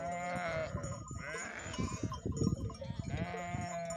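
Sheep bleat one after another in a flock on a highland pasture, several long, wavering cries close by, overlapping at times with rustling and shuffling from the animals.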